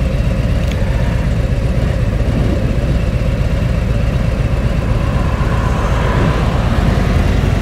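A Harley-Davidson Tri Glide M8 engine with a Rekluse clutch pulls away in a steady, loud low rumble that rises slightly toward the end, heard on the road with constant wind noise.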